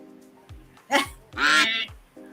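Cartoonish duck honks sound in an online duck race game, several loud nasal honk calls in quick succession over a low background hum.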